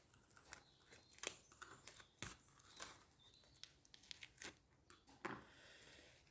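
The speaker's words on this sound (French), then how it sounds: "je vais couper tous les scotch qui me gênent là" Scissors snip through tape strips on an iris folding paper craft, a string of sharp, quiet cuts and crinkles close up with no talk.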